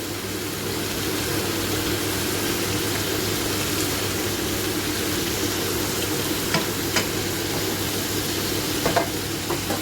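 Liver frying in a pan over high heat, a loud continuous sizzle with steady low hum and a few sharp clicks of stirring near the end, close and without talk.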